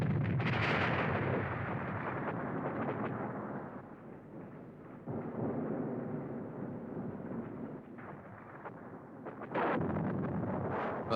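First World War artillery gun firing: a loud, rumbling, continuous roar of heavy fire and blasts, with swelling bursts near the start and end, and no talk.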